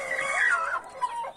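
A young pullet of pretty colouring clucks close by in a short, continuous run of rising and falling calls, alone with no talk over it.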